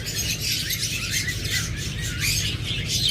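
Forpus parrotlets in a bird shop, with a dense, continuous mass of high chirps and twittering from many birds over a low steady background hum, close and fairly loud throughout.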